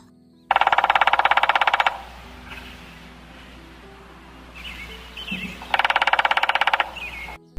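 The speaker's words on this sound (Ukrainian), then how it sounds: "Послухайте, як вистукує дятел." A woodpecker drums on a tree in winter: two loud, rapid, evenly spaced bursts of tapping, separated by a quieter pause with faint bird calls in the background.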